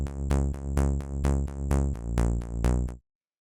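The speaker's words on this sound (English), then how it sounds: "The next layer I have is this bass sound." A synth bass built from a saw wave with white noise and a low-pass pluck plays about a dozen evenly spaced plucked notes in a steady rhythm, stepping down in pitch partway through before stopping cleanly.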